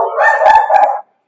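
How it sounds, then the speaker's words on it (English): A dog barks or bays in one sustained, howl-like call lasting about a second, close and loud, then stops dead into silence. "stop barking."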